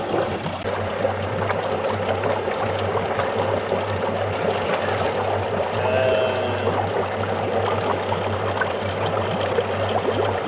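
A steady stream of water from a Yamaha outboard's water pump pours into a three-quart container, a continuous, even splashing rush that holds constant from start to finish with no talking.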